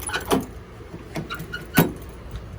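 Easyguard PKE remote start and alarm system installed on a G-body car locking the doors: two sharp mechanical clunks with short electronic chirps, close and alone amid light handling noise.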